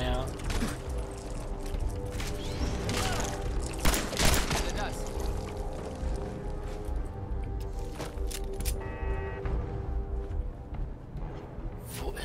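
Gunfire in the video game Fallout 4, with dense bursts of shots during combat against mole rats at a water treatment plant, loud and continuous, with game noise and someone speaking throughout.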